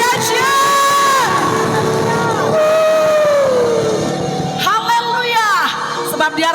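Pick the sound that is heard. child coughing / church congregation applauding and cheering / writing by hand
church congregation applauding and cheering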